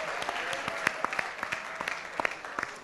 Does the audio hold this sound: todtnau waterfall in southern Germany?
no